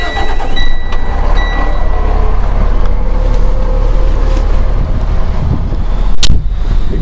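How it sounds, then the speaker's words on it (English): The pump engine on a Darley CAFS fire truck pumper starts up and runs with a loud, close, continuous rumble, with a sharp clank near the end. "Let's go ahead and fire up this pump."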